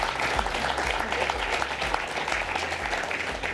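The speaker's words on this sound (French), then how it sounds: "je vous demande de l'applaudir bien fort" Applause from a conference audience, a dense, steady wash of many hands clapping close by for the full stretch, loud and unbroken.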